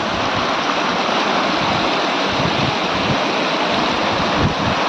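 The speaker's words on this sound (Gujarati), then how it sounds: "જો આપ જોઈ રહ્યા છો પાણીના ઝરણા ચાલી રહ્યા છે" Water from a hillside spring stream rushes steadily past a Mahadev temple, a continuous loud broadband flow with no breaks, like a small waterfall close by, with some wind noise on the microphone.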